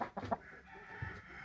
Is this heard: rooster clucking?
yes